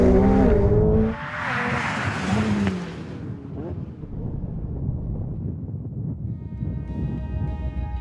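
A McLaren 720S supercar makes a launch-control start, its engine loud and close, rising in a strong rev before easing into steady driving roar with wind noise over the microphone.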